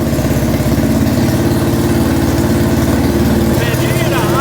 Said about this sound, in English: Man, you hear that idle? This idle is crazy.